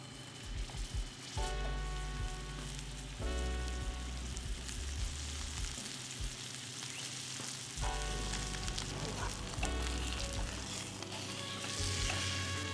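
Fennel and sumac crusted rib-eye steak searing in a hot non-stick frying pan, a loud continuous sizzle with crackling spits and some background tones.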